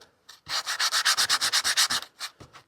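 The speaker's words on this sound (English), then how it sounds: "sandpaper, 80 grit." Hand sanding with 80-grit sandpaper over a sagging F-150 truck headliner board to clear dried foam, a quick run of about a dozen rhythmic rasping back-and-forth strokes, close and even, followed by a couple of slower scrapes.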